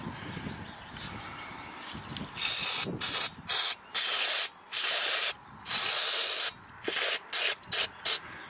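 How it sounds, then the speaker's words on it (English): Aerosol spray is applied to a spark plug on a Ford Ranger 2.3 during a tune-up, in a rapid series of loud hissing bursts of varying length separated by brief pauses. "That's all I'm going to do is spray it and let it set for a minute."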